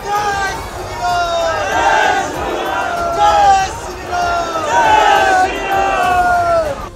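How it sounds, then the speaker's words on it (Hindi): A large crowd of Hindu activists carrying saffron flags chant slogans at a protest near Banaras Hindu University in Varanasi, with loud rhythmic shouted phrases rising and falling in waves over a steady babble. "भगवा झंडों के साथ पहुंचे लोगों ने वहां हनुमान चालीसा का पाठ किया और इसके बाद नारेबाजी शुरू कर दी।"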